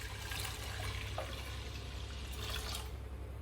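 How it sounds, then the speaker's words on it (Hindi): A jug of water is poured into an open cooking pot of Hyderabadi haleem, a close, continuous splashing pour that lasts about three seconds before tapering off. "1 जग पानी डालते हैं इसमें"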